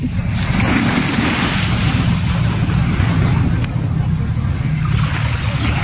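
Sea waves wash continuously onto Malobaroc Beach under a dull overcast sky, a loud steady roar of surf mixed with heavy wind buffeting the microphone from start to finish.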